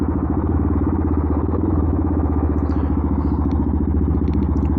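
A Benelli TNT 125 motorcycle with a loud upgraded exhaust idles and revs close by, a steady throaty rumble with crackling clatter running unbroken throughout.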